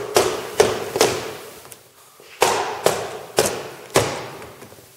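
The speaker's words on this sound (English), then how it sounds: "the easiest tool to use doing that is a wooden mallet." A wooden mallet knocks a theatre flat frame loose, several sharp wooden thuds in two uneven groups, close and fairly loud with short ringing tails.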